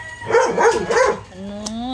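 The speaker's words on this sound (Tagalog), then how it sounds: "Ingay ng aso." A dog barks three times in quick succession, loud and close, followed by a short tonal whine or whimper at the end.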